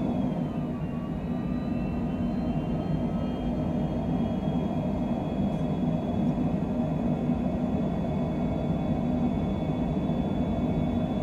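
A virtual aircraft engine in Microsoft Flight Simulator runs at full throttle for takeoff, a steady loud rumbling drone with a faint rising whine, continuous and unbroken and with no voice over it.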